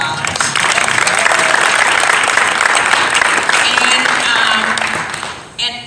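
An audience at a keynote conversation on just and sustainable cities breaks into loud, sustained applause, many hands clapping densely and evenly for several seconds before it quickly tapers off near the end.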